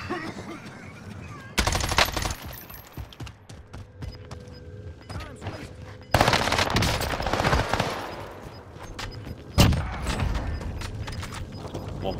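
Machine-gun fire in a video game, bursts of rapid shots that cut in sharply and keep rattling over background game noise, loud and close.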